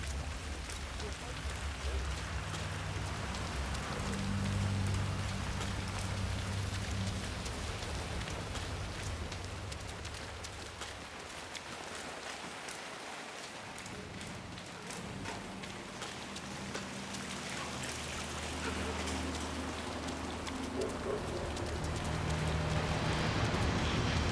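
Steady rain falls across an outdoor level in the game Hitman 3, a broad continuous hiss that holds throughout with low ambient rumble and occasional voices underneath.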